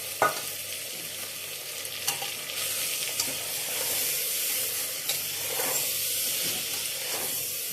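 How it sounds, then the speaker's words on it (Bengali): Pulao ingredients are stirred and fried in a pan, a soft continuous sizzle and hiss with intermittent scraping stirs, fairly quiet and free of talk. "নাড়াচাড়া করে ভাজবো।"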